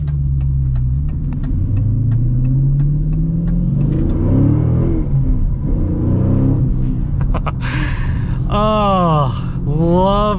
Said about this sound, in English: Just a deep, rumbly V8 sound.